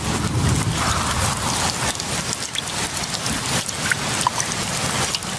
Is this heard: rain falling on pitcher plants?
yes